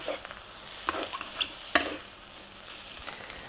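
Eggs and Pad Thai ingredients fry in a pan under a soft continuous sizzle, broken by a few sharp spatula scrapes and clinks against the pan, close and fairly quiet.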